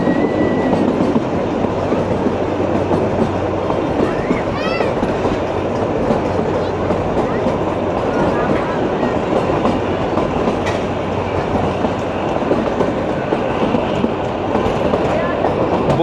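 Shimla toy train running, a steady loud rumble and clatter of wheels on track throughout, with a brief squeal of metal and muffled voices in the background.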